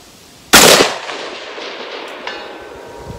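A single loud, sharp rifle gunshot at an outdoor shooting range, a close crack followed by a decaying echo that rolls away over about two seconds, with a faint second report later.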